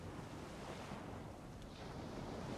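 Soft ocean waves wash steadily onto a shore on a calm evening tide, with a light breeze adding wind noise. The surf is a continuous, even hiss with no distinct breaks and no voices.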